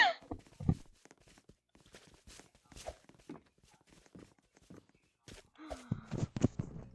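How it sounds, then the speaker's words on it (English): Game footsteps from the Roblox countryballs roleplay, a scattered series of soft thudding steps at moderate volume with a denser burst of steps and clatter near the end. "The footstep noises are really good."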